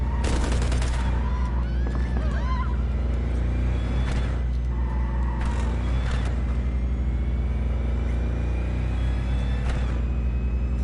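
Loud, dense gunfire in the video game Cyberpunk, with rapid bursts and repeated shots over a constant low engine-like rumble, continuing throughout without any talk.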